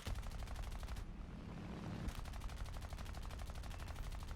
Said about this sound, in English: I fire a little farther out to see if I can get some lucky shots off.